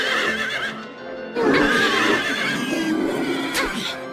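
A horse neighs during a boss fight in the video game Silent Hill 3: a loud, close whinny with a wavering pitch, then a second sharper cry near the end, over a low game soundscape.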